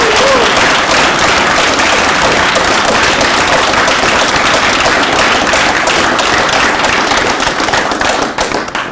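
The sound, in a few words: audience applause and cheering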